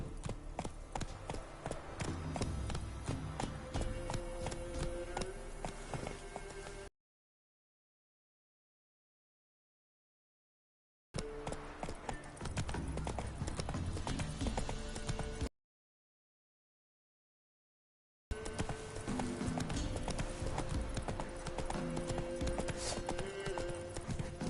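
A horse trots in The Witcher 3, its hooves clip-clopping in a steady, even rhythm up close, cut by two stretches of complete silence.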